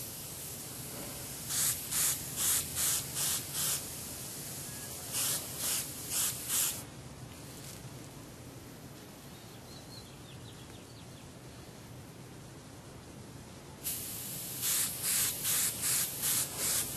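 Hissing bursts of spray paint laying a medium wet coat, rhythmic pulses of short sprays in groups with a steady airy hiss between, close and fairly loud, pausing mid-way before resuming.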